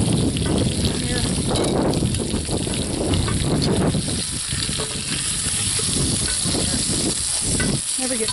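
Steak searing in a cast-iron Dutch oven over a campfire, with a steady, loud hiss and crackle of frying fat running throughout while a person talks over it.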